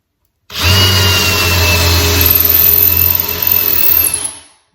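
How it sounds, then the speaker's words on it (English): A power drill whirs loudly into a wooden cabinet door or drawer for about four seconds, drilling a hole for a handle, its motor pitch wavering as the bit bites, then winds down to silence. "our job is to drill the next hole"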